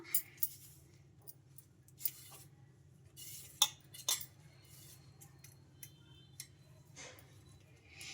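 Spoon stirring flour into batter in a bowl for rumali paratha: quiet, scattered scrapes and light clinks against the bowl over a low, steady background hum.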